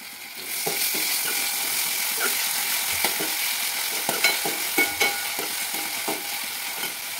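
Onion and tomato frying in a pan on a fast gas flame, a bright steady sizzle with repeated scrapes and taps of a spatula being stirred through, no voices.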